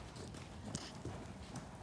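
A horse's hooves thud softly in a sand arena during a riding clinic, a few muffled, irregular footfalls under a fairly noisy background.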